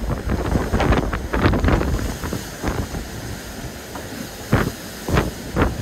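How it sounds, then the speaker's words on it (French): Gusting wind above 50 knots roars across a Vendée Globe racing sailboat, a loud steady rush with repeated hard buffets on the microphone and sea noise beneath, no speech. "on a plus de 50 nœuds de vent!"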